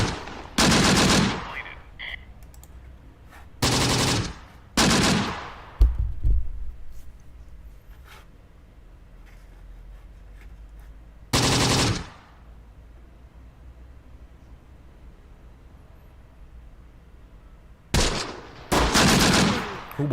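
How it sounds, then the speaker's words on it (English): Machine-gun fire crackles in the WWII strategy game Close Combat: The Bloody First, in a handful of short, sharp bursts separated by longer quiet stretches with low background noise. "Problem isn't so much this MG unit,"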